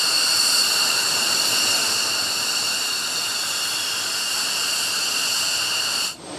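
Military jet aircraft roar overhead at Monas, Jakarta, during a rehearsal for the TNI anniversary celebration, a loud, steady hissing jet noise that holds for several seconds before cutting off abruptly.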